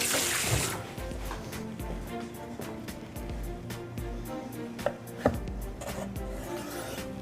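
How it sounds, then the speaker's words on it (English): Tap water runs steadily while a knife is rinsed beneath it, a continuous near splash with a few light clinks of the blade against the sink. "I'm just gonna clean my knife in between so that we get a nice cut"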